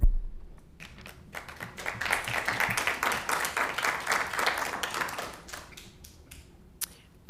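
An audience at a city council meeting applauds in a sustained burst of dense clapping that swells and then thins out into scattered claps.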